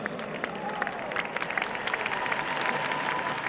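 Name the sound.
applause at Grand Palais ice rink opening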